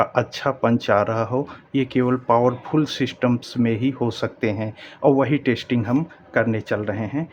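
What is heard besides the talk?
No everyday noises stand out.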